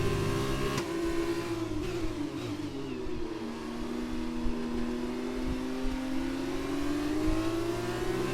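A Formula 2 race car in the F1 2020 game at the Bahrain Grand Prix, its engine revving steadily and climbing in pitch as it accelerates out of a corner, loud and continuous throughout.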